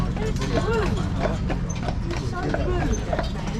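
Heavy carriage horses of about 2,000 pounds clip-clop along a road in Stanley Park, Vancouver, with a steady run of hoof strikes under a constant rumble of wheels and outdoor noise, while a voice talks over it.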